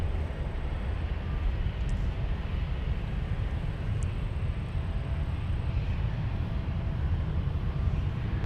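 An airliner takes off from runway 17 at Minneapolis–Saint Paul airport (MSP), heard as a steady, distant low roar and rumble of jet engines that holds constant throughout, with no voices.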